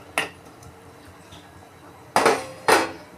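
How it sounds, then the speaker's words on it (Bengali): Fried potatoes dropped into a pressure cooker holding chicken and water, heard as sharp metallic clinks and clatters, one early hit and two louder knocks close together near the end, with quiet kitchen background between. "এবার ভাজা আলুগুলো দিয়ে দিলাম"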